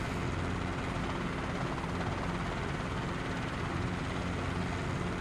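A steady Chinook CH-47 helicopter rotor drone in a flight simulator, with a continuous low thrum and broad whooshing noise, constant in level throughout.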